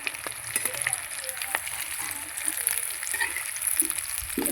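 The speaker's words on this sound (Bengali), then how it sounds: "ডিমের ডেবিলগুলো খুব সুন্দর ভাজা হবে এগুলোও ভেজে নেব" Egg devils fry in a shallow layer of oil in a pan, giving a continuous crackling sizzle with scattered sharp pops and spits, close and fairly loud, with no voices.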